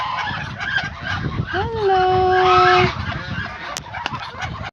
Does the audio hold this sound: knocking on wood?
no